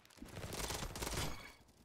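Pistol fire in the shooter game Bad Business, heard as a dense, fairly faint stretch of rapid, overlapping shots that swell and fade over under two seconds, with no talking.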